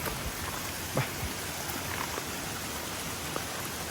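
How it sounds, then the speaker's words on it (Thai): Heavy rain pours steadily in a forest, a dense, constant hiss with scattered drops landing close by. "มาตัดเลยนะแล้วเม่ีเจอฝนแรงเลยทุกคน"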